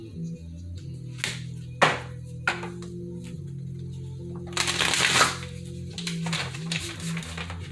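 Oracle cards are shuffled by hand, close and crisp, giving riffling flutters with sharp taps and slaps as the deck is squared, broken by short pauses.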